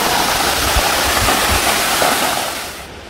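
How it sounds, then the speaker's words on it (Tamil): Jalagamparai waterfall in the Tamil Nadu hills pours in a steady, loud, broadband roar of rushing water, continuous and close, easing slightly toward the end. "ஆனால் தண்ணி நல்லா வருது இங்கே."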